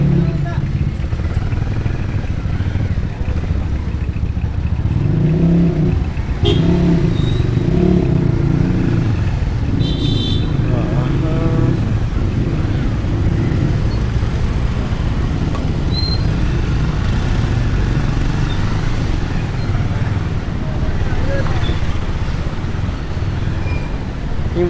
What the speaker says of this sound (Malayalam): കുറച്ച് ബ്ലോക്ക് ഉണ്ടെന്ന് തോന്നുന്നു